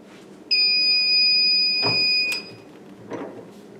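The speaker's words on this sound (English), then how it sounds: "the machine is going to beep when it's done" A heat press used for making custom canvas bags gives a single long, loud electronic beep of nearly two seconds, steady and piercing, followed by faint shuffling handling sounds.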